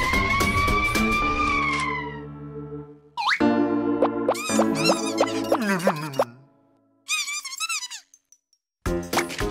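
Playful cartoon sound effects in the Pocoyo cartoon, including a wailing ambulance siren-like whoop, bouncy boings and plops, in short bursts separated by brief silences.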